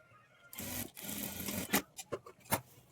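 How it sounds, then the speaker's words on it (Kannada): A sewing machine stitches darts on a high-neck blouse, running in a steady whirring burst and then breaking into short, clattering stop-start runs, close and alone. "ಈ ಥರ ಎರಡು ಡಾಟನ್ನು ಸ್ಟಿಚ್ ಮಾಡಿಕೊಂಡು"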